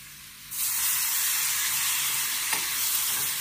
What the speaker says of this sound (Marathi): आणि आपण छानपैकी हलवतो